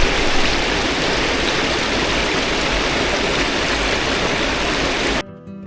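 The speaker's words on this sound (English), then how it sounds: "the water here comes down from Lymm Dam, which is just up top" Steady, loud rushing of a stream flowing down from Lymm Dam past an old watermill in Lymm, a dense continuous wash of water that cuts off abruptly near the end.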